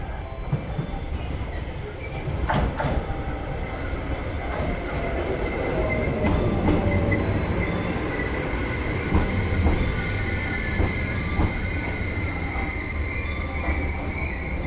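A Yakumo Limited Express train pulls into a Japanese station with a continuous loud rumble of wheels on rails, scattered clicks and faint squeals from the wheels, heard close and steady throughout.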